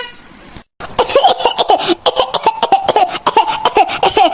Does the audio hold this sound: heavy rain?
no